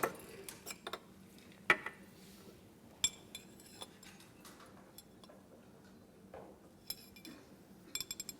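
Pieces of sodium go into glass apparatus holding liquid ammonia, making sparse, faint clinks and ticks of metal against glass, spread irregularly over a quiet background.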